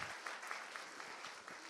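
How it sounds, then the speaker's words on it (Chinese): An audience at a church gathering claps steadily in warm encouragement, a dense, even patter of many hands that holds close and full for the whole moment. "我们再给他们一个鼓励的掌声哈"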